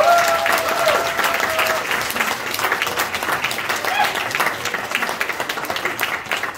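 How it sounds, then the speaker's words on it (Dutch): Audience at a drag show contest in Rotterdam's Belvedere applauding, a loud, sustained round of clapping from a packed room with crowd noise and voices mixed in. "Dus nog één applaus."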